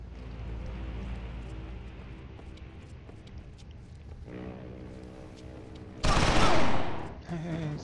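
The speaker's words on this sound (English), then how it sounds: "I've got a fully automatic weapon here." A fully automatic weapon fires in the video game XIII. After a stretch of quieter game ambience, a loud, dense burst of rapid gunfire cuts in near the end, followed by a brief mechanical clatter.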